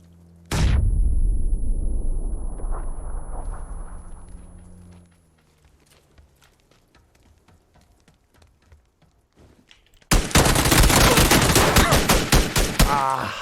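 Submachine gun fire in the online shooter PUBG: a loud burst of rapid shots that fades, a stretch of quiet faint clicks and footsteps, then another dense, sustained volley of fire.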